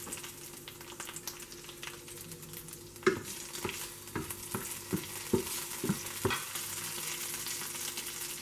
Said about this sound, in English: add about 1 to 2 tablespoons of oil into it. Add 10 to 12 curry leaves. Add chopped green chilies.